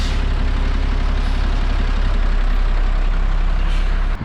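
A bus at a bus terminal in Batam, a loud, steady low engine rumble close by that holds evenly throughout before dropping off abruptly at the end.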